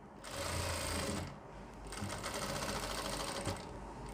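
A sewing machine runs in two quick bursts with a brief pause between them, its fast, even needle chatter close and loud as it stitches the lining of a readymade sharara.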